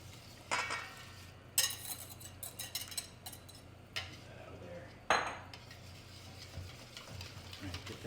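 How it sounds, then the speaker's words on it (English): A whisk clatters and scrapes against a bowl while hot butter is worked into cold cornbread batter ingredients, with irregular metallic clinks and brief louder knocks over a quiet kitchen hum. "Make sure that it gets all whisked together."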